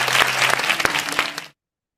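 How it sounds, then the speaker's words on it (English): Audience applause for a speaker at an AI summit, a dense burst of close clapping lasting about a second and a half before cutting off abruptly. "Round of applause."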